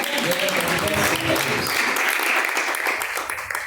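A congregation at a church service claps steadily and densely, filling the space with continuous applause.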